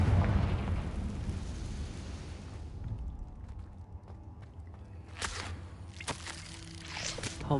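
A Confringo blasting spell in Hogwarts Legacy detonates at once as a loud, rumbling explosion that slowly fades, followed by scattered pops, footsteps and sharp crackling bursts near the end.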